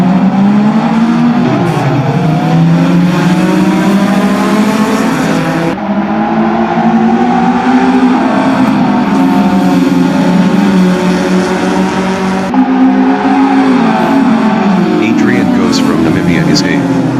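Group N revival race cars rev and accelerate hard off the start line at an SMSA race, a loud sustained roar of several engines climbing through the gears, with a commentator's voice over the top.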